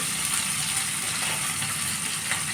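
Catfish pieces frying in oil, a dense, even sizzle and hiss held steady for a couple of seconds, close and fairly loud with no speech.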